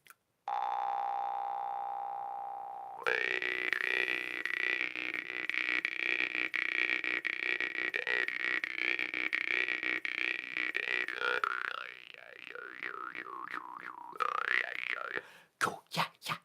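Bass jaw harp playing a low, buzzing twang that drones steadily and then warbles in shifting vowel-like pulses before ending in a few short plucks, preceded by a brief steady tone.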